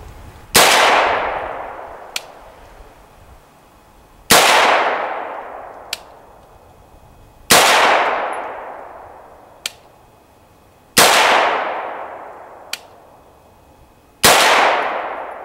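Five shots from a short-barreled 7.62x25mm M16-style pistol caliber carbine at an outdoor range, each a sharp loud crack with a long decaying ring, spaced about three seconds apart, with a faint metallic ping after each.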